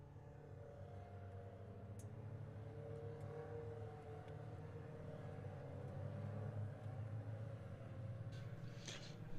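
Caterham 340R race cars on a formation lap at Zandvoort circuit, exiting a corner: a steady, distant engine drone and rumble continues throughout, with slight revving swells and no voices.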